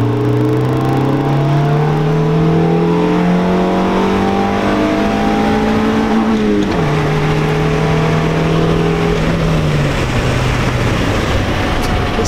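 Modified EG Honda Civic under hard acceleration, a loud, close engine note climbing steadily in pitch, dipping sharply at a gear change around midway, then pulling again, with no talk over it.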